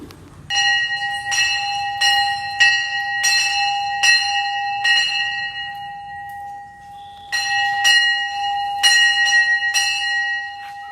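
A child rings a temple bell at a Jitiya festival puja in Jharkhand, striking it repeatedly in uneven bursts with bright metallic clangs that overlap and ring on, then a short pause before more strikes.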